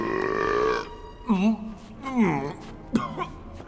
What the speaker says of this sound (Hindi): इसका डकार तो पादर के पात से भी गंदा है